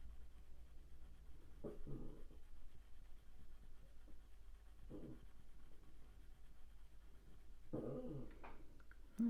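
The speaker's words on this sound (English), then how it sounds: "That's my little dog making funny noises." A small dog makes odd little growling grumbles in three or four short bursts, faint and a little distant, in a quiet room with a low background hum.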